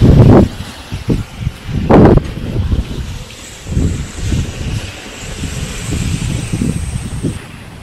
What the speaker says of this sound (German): Und hier draußen haben wir immerhin fast 20 Knoten wahren Wind.